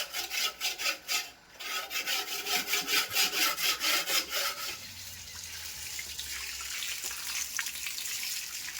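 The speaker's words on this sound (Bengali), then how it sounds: "এবার জল দিয়ে ওয়াশ করা চলছে" A concrete tank used for raising ornamental fish is scrubbed in quick, rhythmic rasping strokes up close, then gives way to steady running water as it is rinsed.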